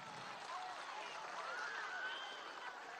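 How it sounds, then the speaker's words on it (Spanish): A crowd at an outdoor campaign rally in Guárico applauds, making a steady, faint wash of distant clapping and cheering that holds evenly throughout. "un aplauso a este joven"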